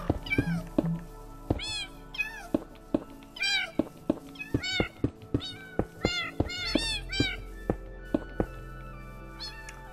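Kittens in the Minecraft PlayStation 4 game mew over and over in quick, overlapping high meows, some rising and wavering, mixed with sharp clicks and thumps from the game, close and fairly loud.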